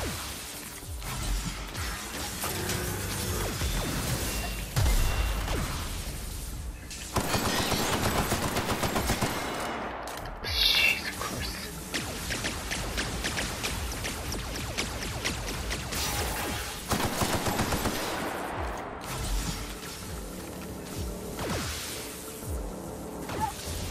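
Bursts of automatic gunfire and weapon sounds from the video game The Outer Worlds, loud rapid volleys broken by short pauses, with mechanical clanks and a whoosh among them.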